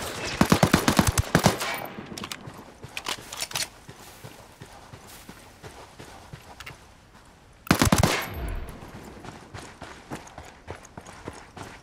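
Gunfire in the video game Ghost Recon Wildlands: a loud burst of rapid shots at the start, scattered quieter pops through the middle, and another heavy burst near the end.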